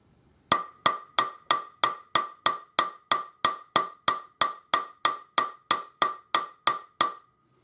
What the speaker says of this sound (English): using a bench block on my lap and the jeweler's hammer